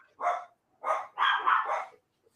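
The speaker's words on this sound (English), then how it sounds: "Oh, the dogs are eating Dan." Several dogs bark in short bursts, a single bark followed by a cluster of overlapping barks, fairly close and loud against a quiet background.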